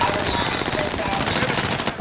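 A dense, unbroken rattle of rapid gunfire runs throughout a Fortune's Keep match, steady and loud, with a voice talking over it.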